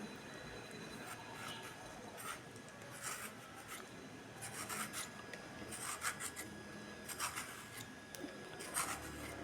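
Bottle gourd skin being scraped off with a peeler or knife in a home kitchen, giving repeated rasping strokes in steady bursts, close and moderately loud, with no talking.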